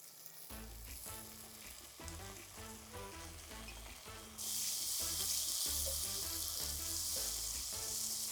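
Garlic, onion and chopped tomatoes sauté in a pan for a Tamil marundhu kuzhambu, giving a steady close sizzle and crackle under a loud rhythmic music track, with the frying hiss surging brighter halfway through as the tomatoes go in.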